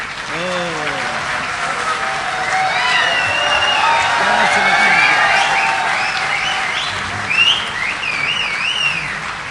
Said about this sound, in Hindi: जोरदार तालियों से इस्तकबाल कीजिए जनाब डॉक्टर राहत इंदौरी साहब